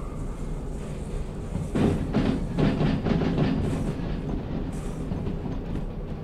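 A heavy freight train with a caboose rolls along rails in the game Derail Valley, giving a rumbling, rhythmic clatter that swells in the middle and then eases into a steady roll.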